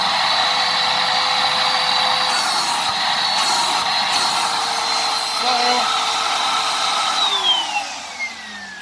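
A Hoover Windtunnel upright vacuum cleaner runs steadily with suction at the hose, a loud continuous whine and rushing airflow up close that drops in pitch as the motor winds down near the end.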